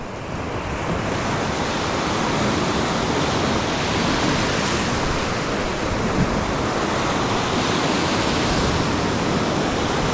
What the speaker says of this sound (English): it seems like the waves just picked up